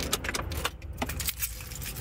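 Car keys jangle in quick metallic bursts as a car is switched off, close and fairly loud over a low engine rumble.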